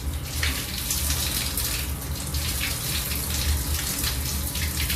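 A tap runs steadily during handwashing, a constant close gush of water into a sink that holds evenly the whole time with no voices.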